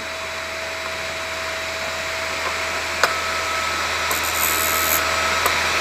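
A Vevor drill bit sharpener grinds a drill bit that had been hand-sharpened before, giving a steady, loud motor whine with a constant abrasive hiss. Brief clicks and a higher scraping burst come near the end.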